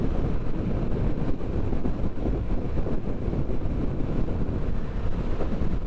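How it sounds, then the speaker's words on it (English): Heavy wind buffets the microphone while riding a Yamaha XSR700 motorcycle, a constant low rumbling roar that fills the whole clip. "It's quite a windy day."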